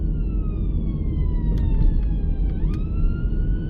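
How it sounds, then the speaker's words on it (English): An ambulance siren sweeps in a slow wail, steady and fairly prominent above heavy low rumbling traffic or wind noise, pitch dipping then rising as it passes. "the ambulance coming through now? Let's let them past."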